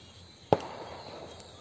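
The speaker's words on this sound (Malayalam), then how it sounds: "അപ്പൊ വിഷ്ണു പടക്കൊക്കെ പൊട്ടുണ്ട്." A single firecracker bursting during Vishu celebrations, one sharp, distant pop that rises briefly over quiet background noise and then fades.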